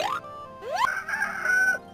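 A cartoonish chicken from the Goblins Quest 3 video game gives a short, rising squawk followed by a longer warbling cluck-like cry, heard alone and fairly loud.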